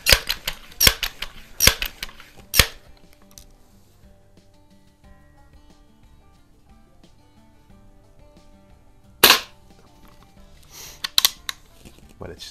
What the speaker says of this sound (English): I shot several groups with this with several different pellets